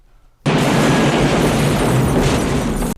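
A car blows up in an action film, a sudden loud blast that erupts after a short quiet and roars as a sustained, dense rumble for over two seconds before cutting off.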